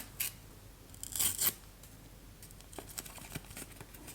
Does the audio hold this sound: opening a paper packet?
yes